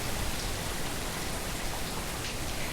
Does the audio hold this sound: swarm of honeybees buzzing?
no